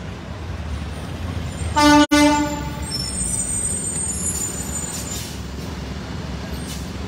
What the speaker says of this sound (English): There's truck driver, gave us a honk of approval.